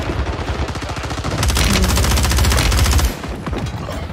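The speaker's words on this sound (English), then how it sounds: "Fire shotgun." Rapid shotgun fire from a video game crackles in a dense burst of repeated blasts, loudest in the middle then tapering into scattered shots, with no talk over it.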